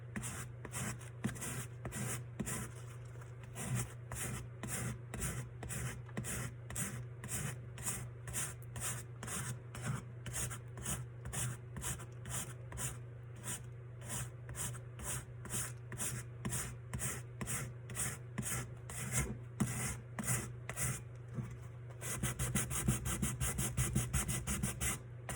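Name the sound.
sanding a tumbler with 280 grit sandpaper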